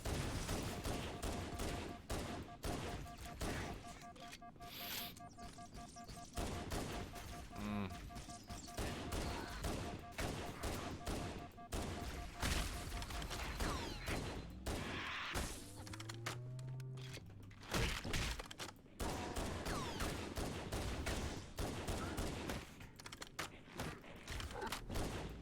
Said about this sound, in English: I love how they just shoot wildly when they die.